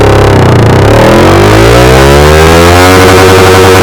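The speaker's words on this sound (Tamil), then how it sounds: "Yamaha R15 version top speed test பண்ணுறதுக்கு போவோமா?" A Yamaha R15 V4 motorcycle accelerating hard through the gears on a top speed run, its engine note rising loudly and climbing in pitch as revs build, close and continuous with no talk.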